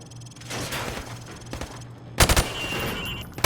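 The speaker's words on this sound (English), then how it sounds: "Now, shoot at the targets while firing from the hip." Video game rifle fired from the hip at range targets, with bursts of rapid automatic shots, a pause, then a loud, sharp cluster of shots and a final blast, close and punchy.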